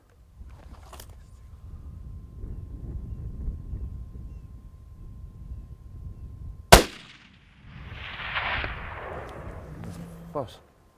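A single sharp, loud rifle shot on an African hunting safari cracks over quiet outdoor ambience, followed by a lingering rumble and rustle, with faint voices around it.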